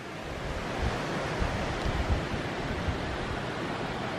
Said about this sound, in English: This is the weir.